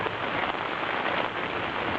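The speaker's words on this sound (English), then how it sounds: "it is really raining like hell out there." Heavy rain pouring onto a tent during a rainy day of camping, a close, loud and constant hiss of drops with no other sounds.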